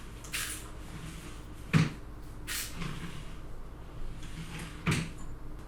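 Wooden and metal dresser drawers slide into the frame during home furniture assembly, giving three separate soft sliding thumps spaced a few seconds apart, close by in a quiet room.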